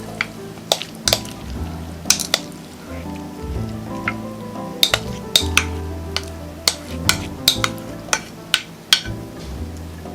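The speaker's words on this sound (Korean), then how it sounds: "철판에 버터를 두른 후 옥수수 콘을 펼쳐 주었어요." Corn kernels are spread across a buttered iron griddle, sizzling softly throughout while scattered sharp clicks and taps of a utensil against the metal ring out at irregular intervals.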